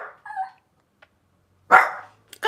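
A dog barks close by: a couple of short yips, a pause, then a loud sharp bark followed by another brief bark, with silence in between.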